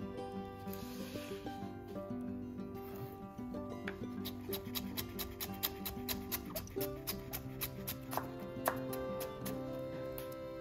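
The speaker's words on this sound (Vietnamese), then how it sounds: "Bây giờ mình sẽ xắt cà rốt nha" Knife cutting carrots into thin strips on a board, a rapid run of light, close taps over background music, faint at first and then steady and quick through the second half.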